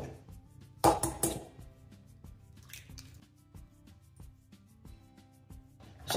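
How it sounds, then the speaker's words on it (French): Eggs being separated into a bowl: a sharp crack and clatter early on, then quiet wet drips and light clinks of shell and glass, ending with another knock against the bowl. "La première étape consiste à séparer le blanc des jaunes d'œufs."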